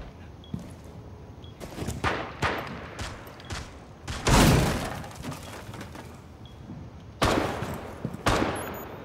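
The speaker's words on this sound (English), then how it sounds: "Someone just shotgunned this wire marking in the window." Several loud shotgun blasts and impacts in Rainbow Six Siege, separated by short gaps, with breaking debris and crashes in between.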